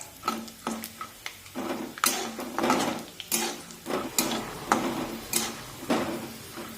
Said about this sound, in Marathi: आणि एकसारखे असे हे उलटण्याने हलवून घ्यायचे म्हणजे मग ते सगळीकडून एकसारखे तळले जातात